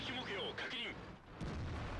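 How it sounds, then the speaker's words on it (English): In the World of Tanks video game, an artillery shell whizzes overhead and explodes, with muffled game booms and a rumbling blast at the end, mixed under excited talking. "That artillery shell whizzing right over his head and taking out the railings behind him."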